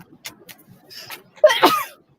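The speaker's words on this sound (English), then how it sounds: "Got a sneeze." A single sharp sneeze bursts out loudly after a stretch of soft rustling and quiet background noise, then fades quickly.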